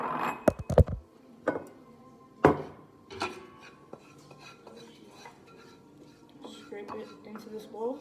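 Cooked garlic scraped out of a pan into a bowl with a utensil: sharp metallic clinks and scrapes in short bursts, loudest early on, then lighter scraping, with a voice speaking over parts of it.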